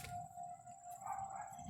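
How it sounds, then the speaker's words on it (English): Faint, distant Detroit civil defense siren test at one o'clock, a steady high wailing tone held across the whole moment, quiet under low outdoor background noise. "Detroit always tests their sirens at 1 o'clock."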